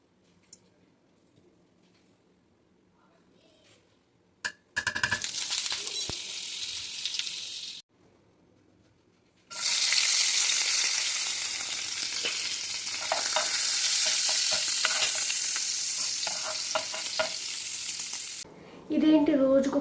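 Olive oil sizzles and spatters loudly in a heated pan, in a short burst and then a longer steady stretch, with quiet pauses between.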